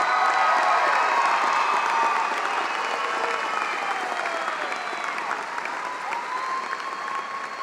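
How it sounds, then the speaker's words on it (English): A large high school graduation ceremony audience applauds steadily with scattered cheers and whoops, a dense wash of clapping that eases slightly in loudness over several seconds. "Everybody, please give them another round of applause."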